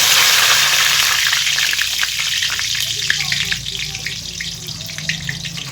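Bay leaves sizzling in hot oil in a pan, a loud, close, continuous frying crackle and hiss that eases a little over several seconds, with faint stirring.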